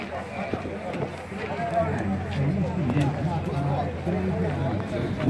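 Horse hooves clopping at a steady, uneven pace amid a busy outdoor crowd at a horse fair in Caruaru, Brazil, with voices and general babble throughout.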